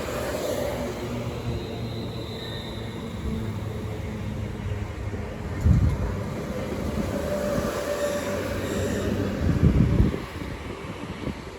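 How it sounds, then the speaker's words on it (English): A London Northwestern Railway Class 350 electric multiple unit runs through Watford Junction on the West Coast Main Line, a steady rumbling rail roar with rhythmic wheel clatter over joints and a couple of louder thumps, no voices. "the 1215 London North Western Railway service to Tring, 350 256"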